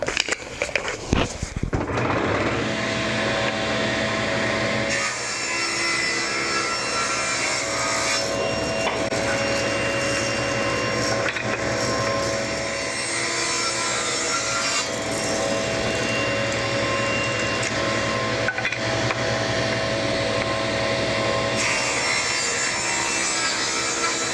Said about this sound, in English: I'm just going to turn them around and run them back through the saw to get my final width.